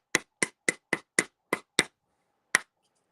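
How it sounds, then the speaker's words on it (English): A pointed hammer strikes around the edge of a copper bowl in seven quick, evenly spaced metallic taps, then one more after a short pause, close and clear with silence between. "So you take your hammer. I got the pointy end, and I'm just gonna strike around the edge."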